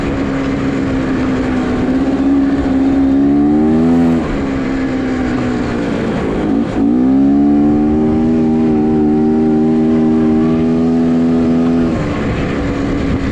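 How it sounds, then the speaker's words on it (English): A vintage Honda Odyssey dirt track race car engine runs loud and close. Its droning tone rises and falls through a few revs, dips briefly in the middle and settles into a steady hum. "Overall, the motor feels a little boggy at higher RPM"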